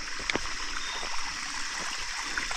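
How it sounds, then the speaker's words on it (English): A creek flows steadily on abandoned coal mine land at night, a continuous broadband rush of running water with a few brief splashy bumps, close and even throughout with no voices. "That creek sounds good, don't it?"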